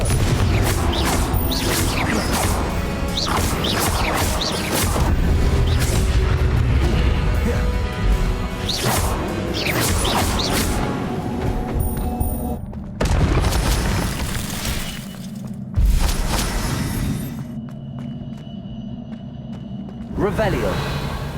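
Confringo blasting spells explode repeatedly in Hogwarts Legacy gameplay on Nintendo Switch, loud booming bursts and crashes stacked over continuous game music and effects, with brief quieter gaps between volleys.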